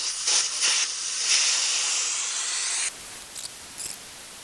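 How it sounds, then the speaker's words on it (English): Air hisses steadily from the valve of an Audi Q5 expandable spare tyre as it deflates, a loud continuous rush that cuts off abruptly, followed by a couple of brief fainter spurts. "To deflate the tyre, all you need to do is undo this little valve at the bottom of your gauge"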